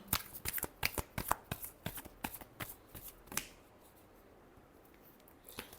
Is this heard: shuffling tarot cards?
yes